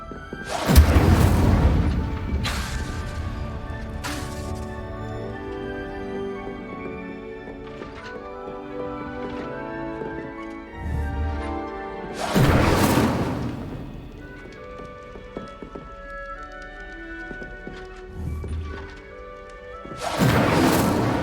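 Incendio fire spell cast in Hogwarts Legacy: a few loud, whooshing bursts of flame erupt at scattered moments, each flaring up and fading, with quieter game sounds and music in between.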